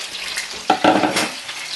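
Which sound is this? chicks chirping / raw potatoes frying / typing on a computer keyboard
raw potatoes frying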